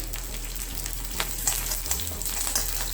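Onions frying in oil with mustard seeds, red chilli and curry leaves for a Kerala ginger curry tempering, a soft, close sizzle with light popping and scattered crackles, fairly quiet and alone.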